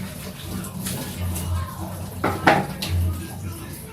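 Dishes and utensils being washed in a kitchen, with water running and scattered clinks and clatters of metal and crockery, one sharper knock near the end.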